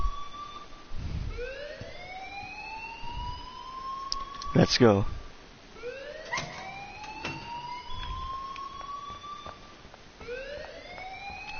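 An alarm blares in the video game Life is Strange, a steady rising electronic wail repeating in long sweeps, with brief voices and a sharp clatter partway through.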